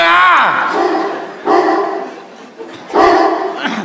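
A dog barks during a Vietnamese comedy stage sketch. Three loud, close, drawn-out barks sound a second or so apart and fill the short stretch.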